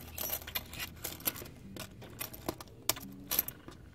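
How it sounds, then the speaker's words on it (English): Small metal scales clicking and jingling as scalemaille is woven by hand, giving a close, irregular run of light metallic taps and rattles with no talking. "I can still weave scale mail kind of by feel if I let the clicking happen"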